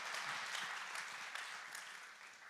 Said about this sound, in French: Come on, give the Lord a hand clap.